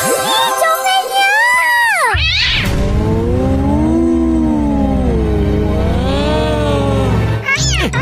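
A cat meows loudly and close by, in long, wavering, drawn-out calls that rise and fall, with a brief rougher burst in the middle and a short cry near the end.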